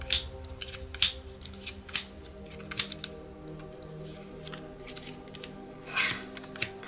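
New Magic: The Gathering cards from a Tarkir Dragonstorm bundle are handled close up, with soft sliding, rubbing and light snapping sounds arriving in irregular quick bursts, quiet between them.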